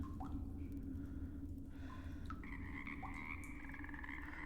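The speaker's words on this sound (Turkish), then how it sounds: "Çok kurbağa ses geliyor ya" Frogs croak repeatedly in a modded Minecraft survival game, short chirping calls scattered over a steady low ambient hum and heard close and clear, with no talk.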